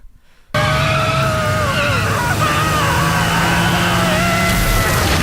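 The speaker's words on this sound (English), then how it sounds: "Crystal slams on the brakes and Grumpy goes flying" A car brakes hard, tires squealing in a loud, sustained skid with wavering pitch that begins abruptly and runs for several seconds over a low rumble.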